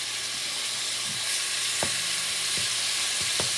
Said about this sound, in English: And let it sizzle.